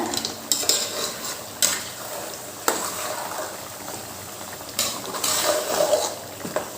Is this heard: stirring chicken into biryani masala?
yes